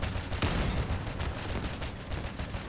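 An anti-air weapon firing in a video game, a dense continuous burst of rapid gunfire with a sharper blast near the start, loud and close throughout.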